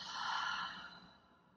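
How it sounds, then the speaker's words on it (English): During a prenatal exercise session, a person lets out one soft, open-mouthed exhale. The breath is breathy and airy, close and quiet, swelling briefly and then fading away. "Take a big breath in. Open mouth, exhale."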